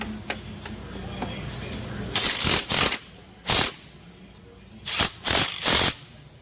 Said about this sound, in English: Let's go on and tighten up the 10mm bolts now